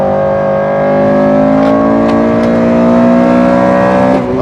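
A little Honda race car with a K20 VTEC engine accelerates hard on the Nordschleife, a loud, close in-car engine howl climbing steadily in pitch with faint clicks, no talk.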